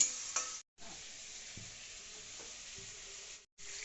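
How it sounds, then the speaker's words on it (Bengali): Fried potato and pointed gourd stirred in a pan for a fish curry, a faint sizzle with a few soft scrapes, quiet and briefly cut to silence twice. "ভেজে রাখা আলু ও পটল আমরা দিয়ে ভালো করে একটুখানি নেড়ে চেড়ে নিচ্ছি"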